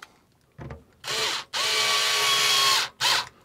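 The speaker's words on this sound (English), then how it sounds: "Just screw it in gently." A power screwdriver driving a screw into a motorhome rooflight fixing, sounding as three loud close whirring bursts after a faint click, the longest about a second and a half, with no talk.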